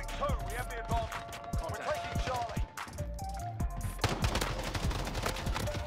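Rapid bursts of gunfire in Modern Warfare, with dense overlapping shots and game effects and a voice talking throughout.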